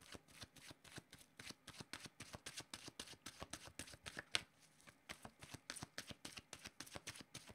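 Oracle cards being shuffled by hand, a steady run of crisp riffling flutters repeating in quick succession, close and fairly soft, with no voices.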